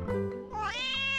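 A cat lets out one drawn-out meow that rises and falls in pitch, close and clear, with nothing else around it.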